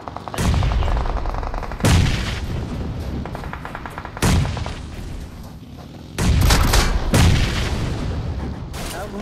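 Gunfire and grenade blasts from the mobile battle royale game BGMI arrive in loud, booming bursts with rapid crackling shots between them, all close and heavy.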